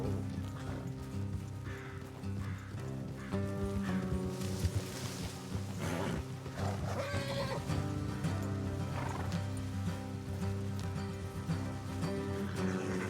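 Horses whinny and snort over steady clip-clopping hooves in Red Dead Redemption 2, set against a continuous musical backdrop with no talking.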